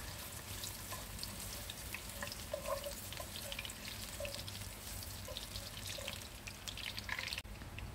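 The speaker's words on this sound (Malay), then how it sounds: "Tumiskan sebentar sehingga naik bau" Ginger and then sliced onion sautéing in hot oil in a wok for a sardine dish: a steady, close sizzle and crackle that runs without a break, with a few faint clinks and no talk.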